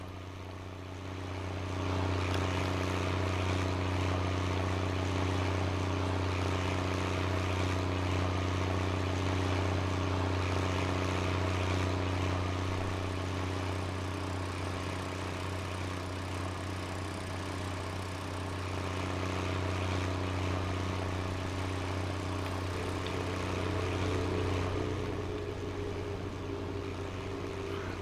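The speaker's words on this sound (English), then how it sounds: "That weird droning noise you can hear is because I've got the tyre extension mod." Steady low droning hum from a tractor's extended tyres, added by a tyre extension mod in Farming Simulator 19, running continuously under an idling engine-like rumble for the whole stretch.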